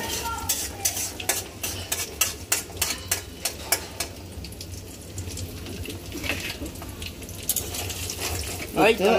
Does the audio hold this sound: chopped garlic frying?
yes